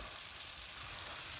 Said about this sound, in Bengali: একদম সব কিছু একসাথে মিক্স করে মশলা কষিয়ে নেওয়া হচ্ছে